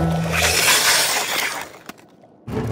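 Thin ice cracks under a skater with a sharp, shattering burst that fades into a hiss. Another brief crack follows, then a short silence and a fresh scrape near the end.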